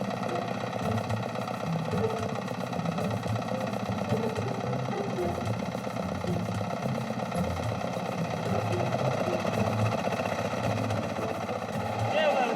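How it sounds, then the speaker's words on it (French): An old truck's worn engine runs steadily in a constant low drone with a mid-range hum on a hilly road in China, continuous and fairly close, with faint background voices at times. "ce camion est une antiquité et son moteur réclame souvent de petits réglages"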